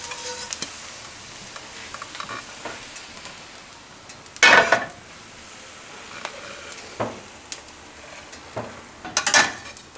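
Rice and cheese fry in a pan, pressed into a crisp cake: a soft steady sizzle runs throughout, broken by a few sharper scraping and stirring bursts, with no talking.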